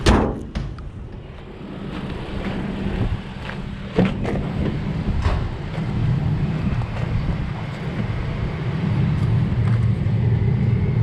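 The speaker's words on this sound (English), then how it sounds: "UPS showing up right in the middle of my video." A UPS delivery truck pulls up outdoors beside a parked 2010 Toyota Tacoma pre-runner, its steady engine rumble growing slightly louder over wind buffeting the microphone, with a few sharp clunks mixed in and no talking.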